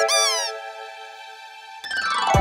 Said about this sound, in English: it's a squeaky toy sound effect.